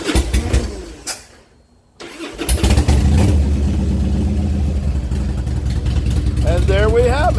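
A Harley Davidson Softail motorcycle, fitted with a new crank sensor, cranks and starts: brief starter whir, a short pause, then the engine catches into a loud, steady, rumbling idle close by, with a voice briefly heard near the end.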